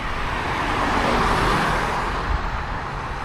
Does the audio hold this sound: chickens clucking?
no